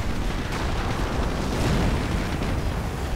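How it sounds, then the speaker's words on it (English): Counter-artillery fire in a World War II strategy video game, heard as a dense, continuous roar of explosions and booming shell impacts that stays loud and rumbling throughout, with no voices. "Nice bit of counter-artillery there, I suppose."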